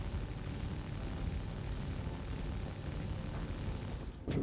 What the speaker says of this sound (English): The sounds of the deadbolts from an external view is immense.